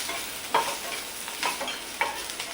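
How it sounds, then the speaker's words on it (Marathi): Chopped onion fries in a pan with just a little oil for a chicken curry, a soft continuous sizzle broken by about four brief scraping strokes as a spoon stirs it, close by and with no talking. "पटकन कांदा आपला भाजला जातो."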